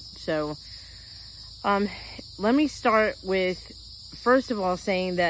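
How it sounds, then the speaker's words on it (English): Evening cicadas in South Carolina keep up a steady, thin, high drone in the background while a person talks clearly up front. "obviously you can hear the, I don't know, cicadas or whatever this is in the background"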